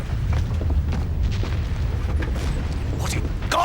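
Distant cannon fire rumbles as repeated low booms over a steady background, with faint voices heard in the scene.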